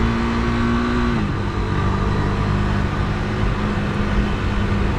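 A Yamaha XS650 motorcycle rides over a gravelly, broken, bumpy road, its engine a loud, steady drone mixed with heavy wind and road rumble, with a brief pitch shift partway through.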